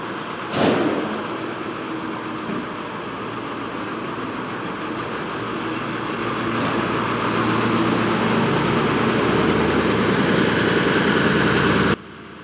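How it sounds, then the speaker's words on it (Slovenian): A Tatra 148 truck fitted with a TAM 240 hp V8 runs steadily and close by, its low rumble swelling gradually louder before cutting off abruptly at the end. "motor ni izviren, saj jo poganja Tamov 240 konjski 8-valjnik."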